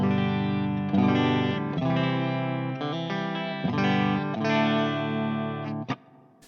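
A Fender Thinline Telecaster plays sustained chords through a Two Notes ReVolt on its American clean channel with power amp, cab simulation and reverb, bright ringing strums changing every second or so, loud and alone.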